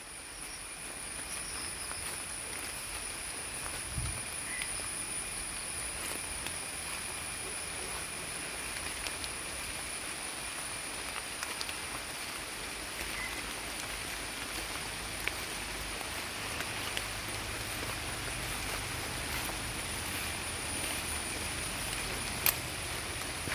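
Steady, soft rain falling on surfaces with a constant hiss, occasional faint drips and taps, no voices.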